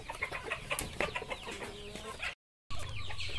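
Hens cluck and chatter close by on a farm, a cluster of short calls bunched together, followed by a brief silent gap and then steadier low background noise.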